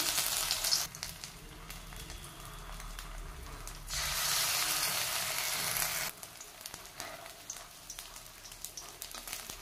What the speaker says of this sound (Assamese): ইয়াতে এয়া গৰম হৈ থকা তেলখিনি ধুনীয়াকৈ এপাহ এপাহকৈ দি গৈছোঁ